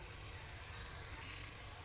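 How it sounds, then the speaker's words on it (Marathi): Rice sizzling steadily as it is stir-fried in a hot pan for Maharashtrian masale bhat, a continuous close, fairly quiet frying hiss with no talk. "याला चांगलं परतून घ्यायचं।"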